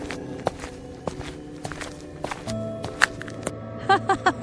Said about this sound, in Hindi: और कोई छत पर भारी कदमों से चल रहा है।